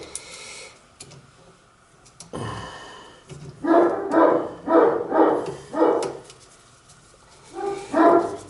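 A dog barks repeatedly in a fairly close, indoor-sounding space near a farmhouse well pump, a run of five evenly spaced barks after an earlier single one, then two more at the end.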